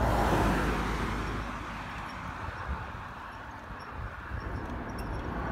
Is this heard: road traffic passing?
yes